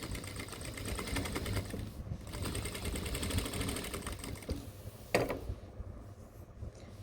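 A sewing machine stitching cargo pants runs steadily with a fast, even mechanical whir and patter, pausing briefly partway through, then resuming with a few clicks as it slows near the end.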